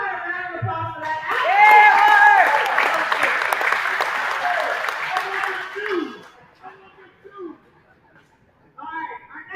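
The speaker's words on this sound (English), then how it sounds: "How about a round of applause for that?" A round of applause from the audience at a live talk event inside a jail, loud at first with cheering voices and some laughter mixed in, then thinning out as talk and scattered sounds take over.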